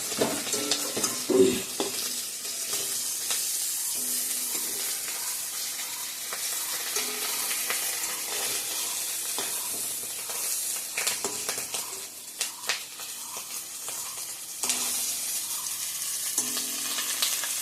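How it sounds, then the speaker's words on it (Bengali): Yesterday's leftover fish reheating in a frying pan gives a steady, close sizzle that runs throughout, with occasional stirring clinks and brief scrapes and no talking. "মাছটা একটু গরম করে নিচ্ছি কালকের মাছ"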